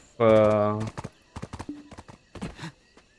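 A horse neighs loudly in a Korean-setting online game, then hooves clip-clop in quick irregular steps while riding, with a person talking over it.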